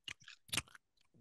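Close-up chewing right into a microphone, several wet, crunchy mouth noises in quick irregular bursts separated by short pauses.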